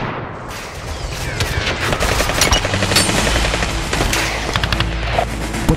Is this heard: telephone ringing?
no